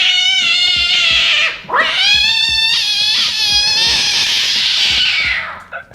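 A voice imitates a cat with a long, loud, strained yowl, breaking briefly midway and then resuming the drawn-out caterwaul until it fades at the end.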